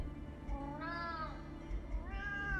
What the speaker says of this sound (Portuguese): O gatinho.